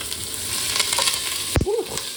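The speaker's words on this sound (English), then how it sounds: "to get a good Maillard reaction, which is the name for when the meat browns, you really need like a hot pan and oil in there" Lamb browning in oil in a hot pan for an Iraqi white bean stew, a steady close sizzle with a few scraping stirs from a spatula.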